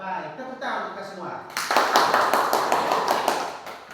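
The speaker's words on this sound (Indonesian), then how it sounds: "tepuk tangan untuk kita semua" Schoolchildren in a Catholic teacher-training class session clap together after a teacher's cue, the dense applause rising sharply after a spoken lead-in and continuing briskly to the end.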